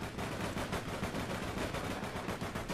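Rapid automatic gunfire in the APB video game, a steady burst of tightly spaced shots rattling continuously at moderate distance.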